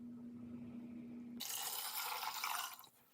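Filtered water pouring into a blender for almond milk, a broad steady rushing splash that starts abruptly partway through, runs loud for about a second and a half, then tapers off, after a low electrical hum.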